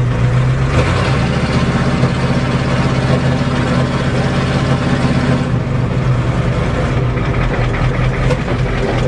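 A Ford diesel truck engine idles with no exhaust fitted, a loud, steady low rumble that runs unbroken and close by, with no talking.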